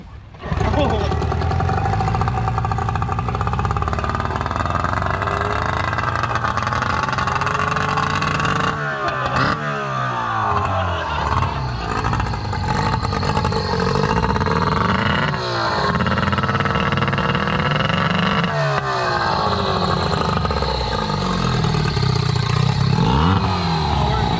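A Yamaha outboard motor runs with a loud, rough, continuous drone that rises and falls through several revs, with clattering mechanical noise and no voice.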